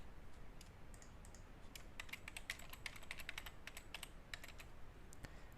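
Soft, close keystrokes tap on a computer keyboard while login details are entered, a quick irregular run of light clicks over a faint steady background hiss.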